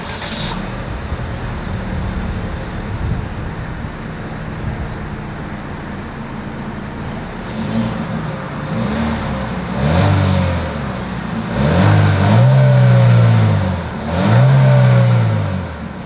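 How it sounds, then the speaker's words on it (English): 2024 Chevrolet Equinox engine and exhaust, idling steadily at first, then a series of sharp throttle blips rising and falling in pitch, with two longer, louder revs near the end, recorded close to the tailpipe. "As always, here is that exhaust clip."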